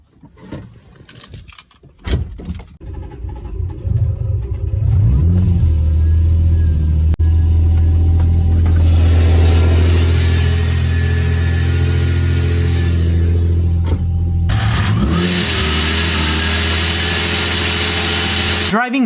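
A loud car engine and exhaust rumble during normal driving, starting quiet and building to a steady, heavy drone with rising revs, close and dominant throughout.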